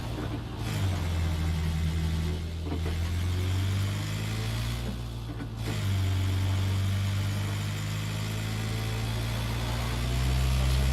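A vehicle engine drives in PUBG, a low steady drone that swells and dips with throttle and gear changes, with two brief drops partway through, close and continuous.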